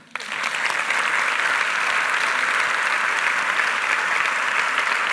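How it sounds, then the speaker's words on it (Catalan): Theatre audience at the Teatre Principal de Terrassa breaking into sustained applause during a short-film presentation, a dense, steady wash of clapping that starts abruptly and holds at full strength. "Tornem-lo a aplaudir una mica."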